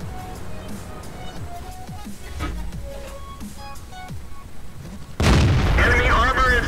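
Tank cannon fire from World of Tanks on the Conqueror tank, a single heavy boom near the end breaking over game music and someone talking in Dutch.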